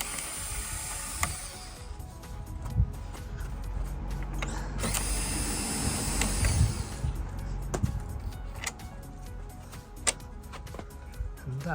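A power tool driving out the top screws of an Audi TT RS MK3 front bumper: close, steady mechanical whirring with sharp ratcheting clicks and taps scattered throughout.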